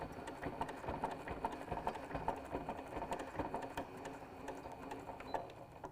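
A sewing machine stitches slowly over the plastic teeth of a zipper on a scrappy pouch, giving a close run of quick, even mechanical clicks and taps under a faint background hum.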